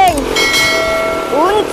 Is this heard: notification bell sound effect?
yes